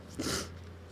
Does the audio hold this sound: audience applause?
no